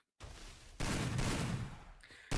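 Video game gunfire during a competitive mobile shooter match, heard as dense continuous bursts of shots that start abruptly, swell into a loud sustained volley, then briefly drop before another loud burst at the end; no talk over it.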